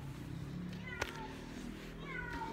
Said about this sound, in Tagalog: Sensya na kayo guys sa aming pusa. Maingay. Nagugutom na.